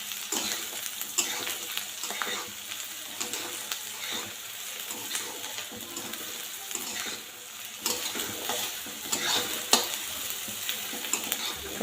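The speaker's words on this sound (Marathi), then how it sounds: "कांदा छान लाल होईपर्यंत एकसारखा हलवून परतून घेऊ।" Chopped onion stirred and fried in a pan for Maharashtrian kande pohe, a steady close sizzle with repeated scraping strokes of the spoon, no talking.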